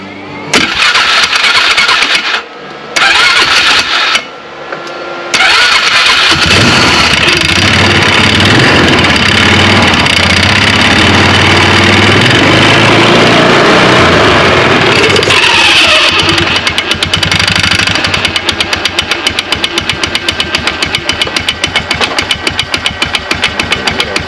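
A Polaris Sportsman 500 ATV with a slipping clutch cranks and catches, then runs on at a loud, steady idle with revving swells, close to the microphone and with no talk over it.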